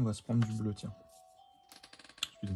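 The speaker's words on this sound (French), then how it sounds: "c'est la sonnette de la porte" A door chime sounds indoors with a couple of clear, sustained ringing tones in the middle, set between stretches of someone speaking French close by.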